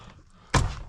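A window crank from a 1967-81 vehicle is pushed onto its door rod and snaps into place, one sharp close thump standing alone after a quiet lead-in.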